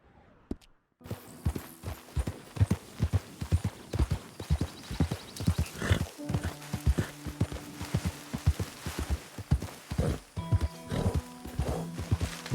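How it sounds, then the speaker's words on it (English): Horse hooves clip-clopping steadily in the video game Red Dead Redemption II, a close walking rhythm on the ground with a brief whinny partway through, game ambience underneath and no talking. "You're quite the horse"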